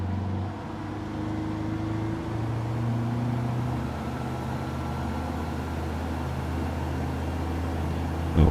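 A light aircraft engine runs up to about 4,000 RPM before takeoff, a loud sustained drone whose tone steps up and then holds steady, with a brief thump at the very end.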